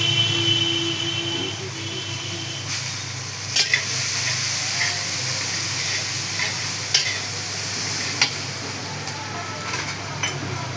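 Dried red chillies sizzling and crackling in hot oil as they are stirred, a steady close frying hiss broken by occasional scrape and clink of the utensil against the pan.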